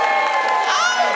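A live audience cheers and whoops for a contestant named Benny on a dating show stage, a dense, loud crowd roar with excited high shouts, steady throughout and without clear individual claps.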